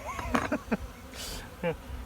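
Honeybees buzz close by at an opened nuc hive in February, agitated after some bees were crushed, a few short droning passes coming and going over faint background noise.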